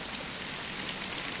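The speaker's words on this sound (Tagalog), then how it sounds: "talagang ayaw tumigil ng ulan" Rain falls steadily without letup, a soft, even hiss of drops on surfaces, fairly quiet and continuous with nothing else over it.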